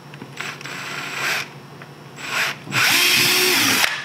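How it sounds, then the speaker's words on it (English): Cordless drill boring a hole through a pre-marked spot on a Ski-Doo Gen 4 snowmobile to fit a skid plate, in three short bursts, the last a longer loud whine as the bit cuts through. "There's a pre-marked hole on this side to drill"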